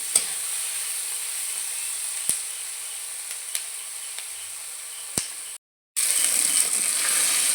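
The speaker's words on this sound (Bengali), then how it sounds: "রসুন আর বেগুনটাকে আমি একটু ভেজে নেব" Eggplant and garlic frying in a pan give a steady, bright hiss of oil with a few sharp utensil clicks. The sizzle cuts out briefly near the end, then comes back.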